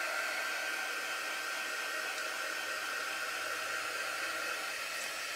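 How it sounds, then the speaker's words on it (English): A hair dryer blows steadily and close by while drying a Magnolia rub-on transfer, a constant broadband whoosh that holds level for the whole stretch with no talk over it. "I'm just going to dry this for a minute."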